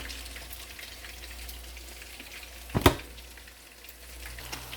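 Mackerel fish frying in a pan gives a soft continuous sizzle, broken by one brief louder clatter partway through, with no talk.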